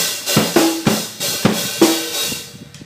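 A simple drum beat played on a kit, with bass drum thumps, snare hits and hi-hat strokes alternating in a steady moderate rhythm, about two seconds of playing heard alone.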